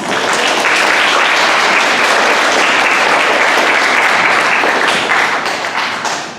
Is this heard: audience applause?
yes